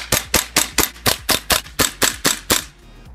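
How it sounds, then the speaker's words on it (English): A KJW KC-02 airsoft gun fires eleven quick, evenly spaced shots with a crisp blowback bolt snap on each, sharp and close in a rapid rhythm, then stops. "the crispness and easiness of the blowback and the bolt on when firing"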